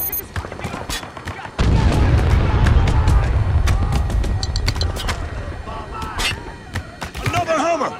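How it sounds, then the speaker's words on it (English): A mortar and other weapons in Spec Ops: The Line: heavy booms and crackling gunfire rumble through the middle of the stretch, with sharp isolated shots and faint battlefield voices around them. "Loading mortar."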